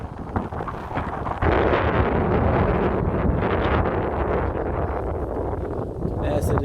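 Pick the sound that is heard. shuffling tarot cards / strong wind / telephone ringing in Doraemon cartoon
strong wind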